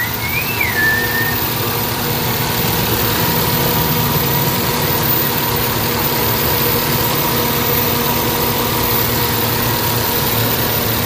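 A Toyota Vitz engine with a vibration and low-power fault idles loud and close in a constant, even drone, with a brief whistling tone near the start.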